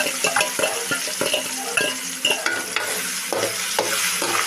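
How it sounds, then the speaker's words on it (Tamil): Onion, tomato, ginger and garlic sauté in a pan for an egg curry, a close, steady sizzle broken by frequent clattering stirs of a spoon against the pan. "வெங்காயம், தக்காளி, இஞ்சி, பூண்டு போட்டு நல்லா வதக்கிட்டு"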